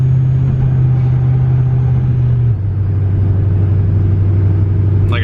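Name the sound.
LS-swapped Mazda engine driving on the street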